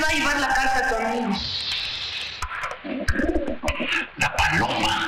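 A pigeon coos in a Mexican comedy film, low rhythmic calls mixed with people talking loudly over and around it.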